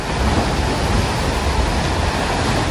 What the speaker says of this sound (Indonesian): Wah, tuh kenceng banget kan itu ombaknya.